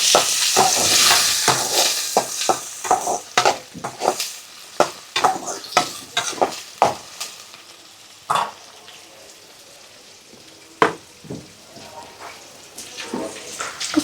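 Tomatoes and onions sizzle in a pan for beef chukka while a utensil scrapes and stirs in uneven strokes, close up, with brief quiet gaps between stirs.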